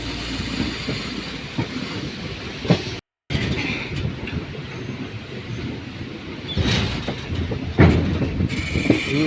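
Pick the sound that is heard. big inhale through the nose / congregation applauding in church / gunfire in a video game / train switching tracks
train switching tracks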